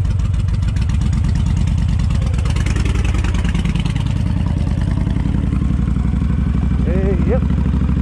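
A Honda 1300 motorcycle rumbles loudly and steadily while riding down a rough road, its close engine pulsing with clattering vibration, and a voice speaks briefly near the end.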